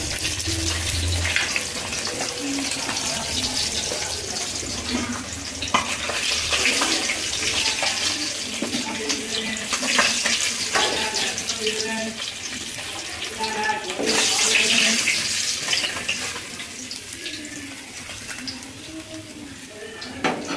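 Parshe fish fry in hot oil with a steady, bright sizzling hiss close up, swelling and easing with occasional clatters of a pan, while someone talks over it.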